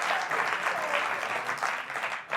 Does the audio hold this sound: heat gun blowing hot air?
no